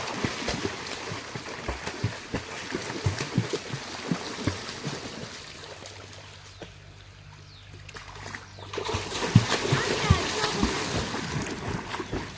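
People play in a farm pond beside an areca plantation, making irregular splashes and slaps of water, louder at the start and end with a calmer stretch between, while voices talk in the background.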